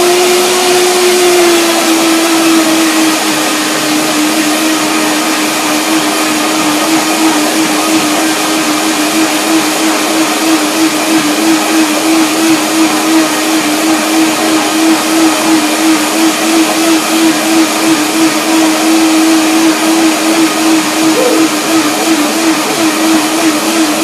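A blender mixing a carob, hemp and banana smoothie runs loudly and steadily for a long stretch, its motor whirring at a constant high pitch with no voices.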